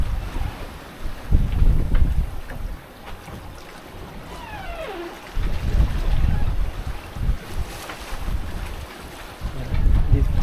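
Sea waves wash around a sailboat on the way to the Balearic Islands, a rushing, rumbling swell that surges and fades in waves, mixed with strong wind buffeting the microphone and a brief faint whistle-like sweep.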